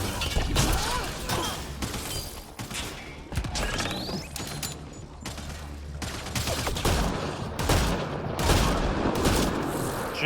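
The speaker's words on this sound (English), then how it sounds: "Shotgun to the face." Shotgun fire in Mass Effect Andromeda amid a busy firefight, a rapid series of loud sharp blasts and cracks with crashing impacts, dense and close, no talk.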